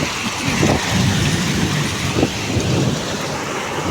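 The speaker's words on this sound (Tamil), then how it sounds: "இப்போ மறுபடியும் ஆலங்கட்டி மலை பெய்யுது" A hailstorm pours down with hail and rain together, making a loud, dense, continuous patter with occasional heavier thuds and no voices.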